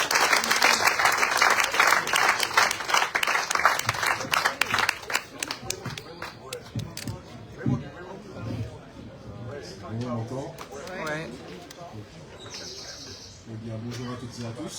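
Audience applause at a French event presenting an electoral list's running mates, loud and sustained for about six seconds before a speaker begins talking over a quieter room.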